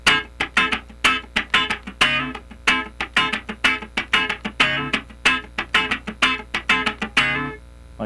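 Funk rhythm guitar in D with a straight feel: a choppy one-bar pattern of short muted strums and stabs repeating steadily, close and clear with no talking.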